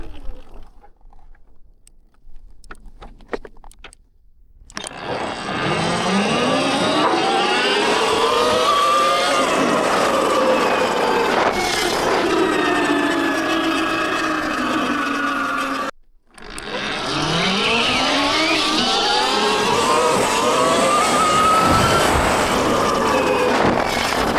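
A 55 kW Surron electric dirt bike with a new motor launches twice. Each launch is a loud, close electric whine that climbs steeply in pitch and holds, with a brief cut between the two runs.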